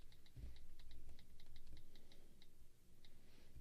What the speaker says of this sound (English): I can split the keyboard and type like this